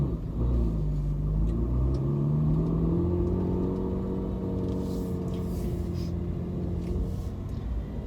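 A Porsche 997.1 Carrera with a 4.3-litre engine drives off, its deep steady rumble rising and settling through gear changes, loud and close from inside the car.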